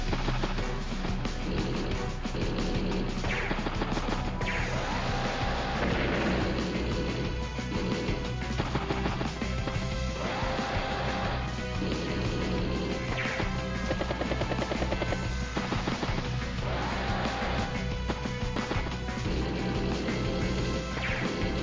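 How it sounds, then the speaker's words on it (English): Game battle effects from Advance Wars: Days of Ruin as an artillery strike lands on an infantry unit: a dense, loud, continuous wash of crashing, thudding impacts and rumbling noise with no talk over it. "Let's strike the infantry unit there."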